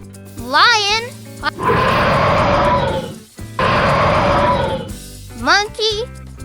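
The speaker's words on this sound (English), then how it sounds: "Lion." A lion roars twice in long, broad, rumbling bursts with a short gap between, over bright music, framed by short high cartoonish vocal squeals before and after.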